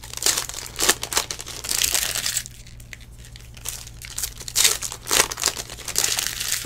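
Foil packs of 2018/19 NBA Hoops basketball trading cards being ripped open up close, several sharp crinkling tears in bursts with a quieter pause midway, over a low steady hum.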